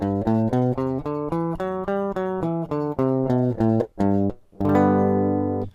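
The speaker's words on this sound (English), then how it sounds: "we have your basic major scale, or the Ionian mode" A synthesized tone plays a major scale (Ionian mode) in distinct, evenly paced ascending notes, then holds a final sustained chord, loud and close.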